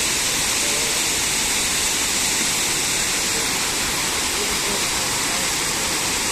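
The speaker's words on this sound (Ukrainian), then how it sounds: "З іншого боку зайшли на водоспад, дивіться, як гарно І туди річечка потекла донизу." Steady, loud roar of a waterfall with a small river pouring downward, a dense unbroken rush of water close by with no voices over it.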